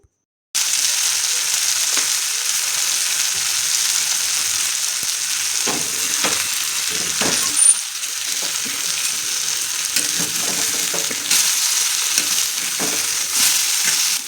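Mangalore-style fish fries in oil on a tawa with a loud, continuous close sizzle. A few quieter clinks and scrapes of handling sound under the crackle, and nobody speaks.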